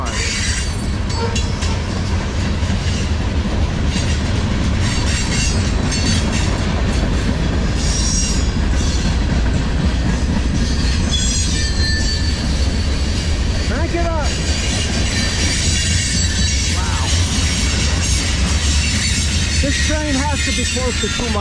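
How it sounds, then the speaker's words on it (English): A long CSX freight train, a maintenance-of-way and manifest consist, rumbles steadily past close by, loud and continuous, with sharp metallic wheel squeals rising near the end. "This is the best train of 2024 so far."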